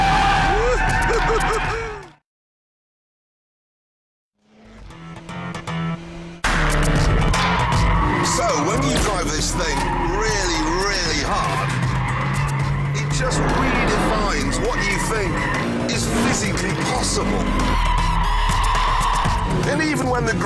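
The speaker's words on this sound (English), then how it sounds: "One finger power sliding." A car power sliding with its tires skidding and squealing on pavement, loud and close. The skid starts, cuts to a brief silence, then runs as a long continuous screech under a voice.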